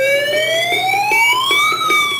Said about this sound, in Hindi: ये केबल टूटने से इमीडिएट सिस्टम के सायरन, सिस्टम के अंदर लगा हुआ 1 और बाहर लगे हुए 2, ऐसे 3 सायरन इकट्ठा शुरू होते हैं